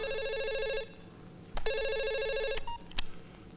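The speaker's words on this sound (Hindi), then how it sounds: "फोन आएगा खुद समझ में आ जाएगा आपको।" A telephone rings in two long electronic bursts separated by a short gap, loud and close with no talk over it, followed by a brief click.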